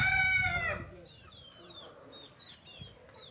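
A close rooster crows once at a gamecock training farm in Pagsanjan, Laguna, and then gives way to fainter chirping birdsong in the background, with no talk over it.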